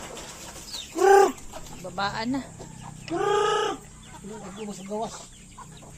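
Backyard chickens cluck and squawk while being fed by an elderly man, several loud close calls in bursts amid quieter clucking, with a voice speaking briefly.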